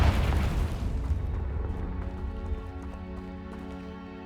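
A magical fire-spell blast in the video game Hogwarts Legacy: a sharp booming explosion that decays into a ringing, crackling tail with faint debris clatter.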